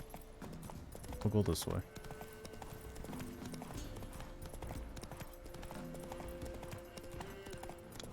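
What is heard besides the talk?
horse Roach hooves clip-clopping in video game The Witcher: Wild Hunt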